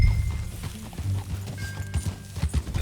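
Horse hooves clip-clopping in the video game Red Dead Redemption 2 while riding, a quick irregular series of thuds, fairly close and moderately loud, with no talking.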